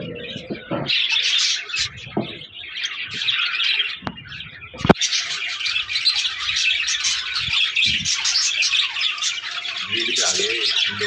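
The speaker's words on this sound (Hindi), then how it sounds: "तो देख सकते हैं मेरे लव बर्ड है।" Pet lovebirds, a breeding female among them, chirp and squawk close by in a rapid, continuous chatter, with a few sharp clicks and knocks mixed in.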